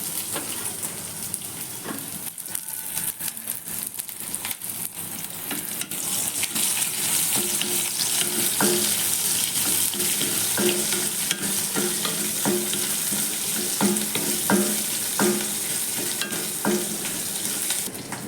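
Chili, garlic, onion and curry leaves fry in a pan with a steady, close, loud sizzle and crackle, broken by frequent clinks and scrapes of stirring; no one speaks over it.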